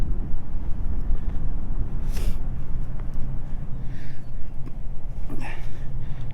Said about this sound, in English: Like right now it's windy, we got a south wind, keeps blowing this flap up